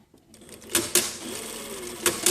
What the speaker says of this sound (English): We're going to sew this side